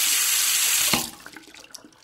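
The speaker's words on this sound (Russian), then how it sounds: "льется вода" Water gushes from a tap in a strong, steady stream, then cuts off abruptly, leaving a few drips and clinks.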